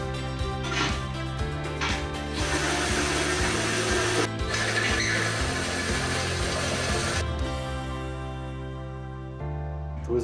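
A power drill fitted with a bigger bit bores a hole through metal fittings for a mulled wine warmer, whirring in steady bursts that ramp up and cut off, fairly loud and close.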